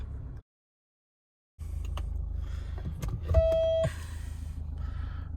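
A car is unlocked with a short electronic beep, then clicks and mechanical clunks follow before the engine comes to life with a low, steady idle, all close by and with no talking.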